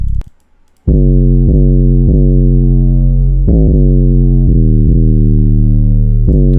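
Deep, booming 808 bass notes with glides play in a steady repeating pattern in a hip-hop beat, each one hitting loud and sustained, with no talking.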